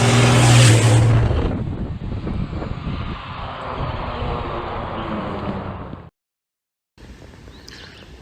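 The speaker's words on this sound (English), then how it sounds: "The old Ford pulled it like a champ" An old Ford truck towing a heavy 1950s roller rumbles steadily along the road with wind buffeting the microphone, loud at first and then settling into a sustained drone before cutting out briefly and resuming.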